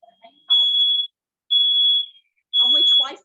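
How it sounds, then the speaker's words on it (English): A super sensitive smoke detector going off in a kitchen workshop, three loud, steady high-pitched alarm blasts separated by short gaps, with a voice speaking briefly between them. "We've got a super sensitive smoke detector."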